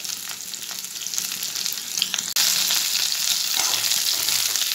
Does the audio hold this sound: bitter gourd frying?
yes